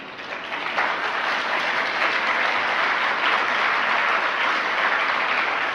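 An audience at a Jain religious discourse breaks into sustained, dense applause that swells after a brief start and holds steady throughout.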